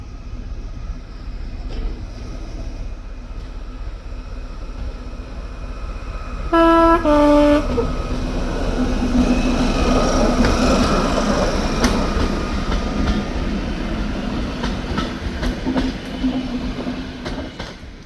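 A Class 73 diesel locomotive hums and rumbles steadily at a diesel gala on the Kent & East Sussex Railway, sounds a short two-tone horn, then its engine note builds as it pulls away with the train nearby.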